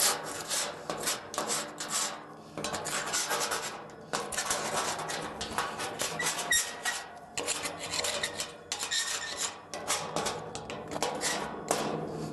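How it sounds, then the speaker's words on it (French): Rust flakes are scraped off metal by hand with a scraper, giving repeated rough, rasping strokes in irregular bursts, close and fairly loud, with no talking. "Donc là, on va procéder mécaniquement avec un grattoir."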